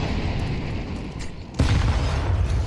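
A grenade goes off in a Counter-Strike esports match, a sudden loud boom about halfway through that rolls into a rumbling tail over steady game noise.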